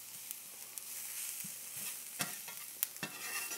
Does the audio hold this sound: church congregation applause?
no